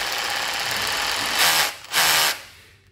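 Japanese cordless drill whirring at a steady high pitch, then two louder bursts as the spin intensifies, close up and alone before winding down.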